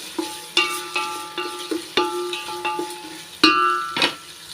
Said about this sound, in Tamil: வெங்காயம் வதங்குறதுக்கு உப்பு சேர்த்துக்கிறேங்க வெங்காயம் வந்து நல்லா வதங்கட்டும்